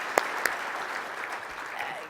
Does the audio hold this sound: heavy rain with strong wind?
no